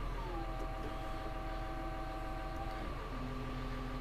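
Secondary steering pump on a Caterpillar 150 motor grader runs with a steady, loud electric whine and drone, a tone stepping down near the end as the steering is moved.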